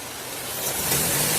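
A car engine idles steadily at close range with a low rumble and a broad hiss that builds slightly louder toward the end, without speech.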